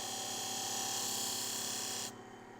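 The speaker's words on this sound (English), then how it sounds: "Let's go start with a 600 grit and see if we can get a nice bevel on that." An antique scissors blade rubs on a 600 grit sharpening stone in a short steady rasping scrape that stops abruptly near the end, close and fairly faint.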